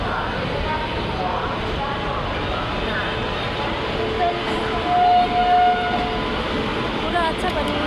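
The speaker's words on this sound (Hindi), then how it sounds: "ट्रेन चल रही है। इतना लंबा ट्रेन चल रहा है।" A long train rolls along the tracks, a continuous broad rumble and rattle up close, with a faint whistle-like tone partway through.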